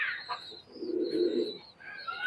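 Pakistani highflyer pigeons at a loft in Khulna give a low, throaty coo lasting about a second, with thinner higher calls and chirps before and after it, fairly close and without speech over it.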